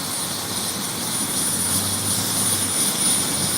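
A helicopter sits after landing to drop off supplies in a flood-hit mountain town, its engine a steady loud whine and rumble with a continuous droning tone throughout.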